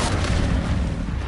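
Confringo spell blast in Hogwarts Legacy, a loud, booming burst of rumbling explosion noise that fills the short moment without pause.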